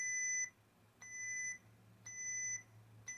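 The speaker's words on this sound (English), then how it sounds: "All right, you're gonna hear that beep." A series of electronic beeps from a Darksaber lightsaber's volume control, each about half a second long, repeat at a steady pace roughly once per second, quiet and clear.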